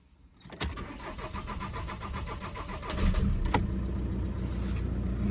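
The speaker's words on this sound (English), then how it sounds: "Little bit of a long crank there, not too bad though." A VW Passat diesel with a hard-starting, low-power fault cranks with a fast, even churn for a couple of seconds, then catches and settles into a louder steady idle, heard close with no talking.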